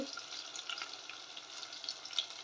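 Brinjal pieces sautéed in oil for ennai kathirikai kuzhambu, with turmeric and kuzhambu powder added, give a soft, steady hiss and faint sizzle throughout, quiet and close, with no talking.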